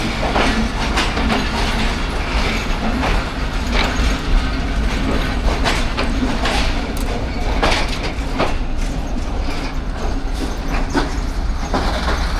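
Train coaches of a passenger rake, parlour, super deluxe, business class and AC standard cars with a power van behind, roll steadily past close by, with continuous loud rumble and clickety-clack wheel beats over rail joints.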